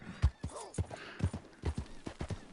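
Horse in the Red Dead Redemption 2 game, its hooves clip-clopping in an uneven run of distinct steps, with a short whinny in the middle, fairly quiet.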